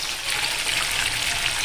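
Chicken frying in hot oil, likely in a large pot for a big communal feast in a Konkan village home in Maharashtra; a steady, close hiss and crackle runs throughout with no talking.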